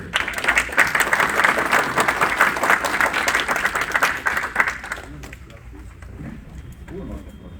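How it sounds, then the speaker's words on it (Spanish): A crowd at a meeting of rural peasant patrol members applauds steadily for about five seconds, the clapping dense and fairly close, then it fades out into a quieter room. "Un aplauso para él."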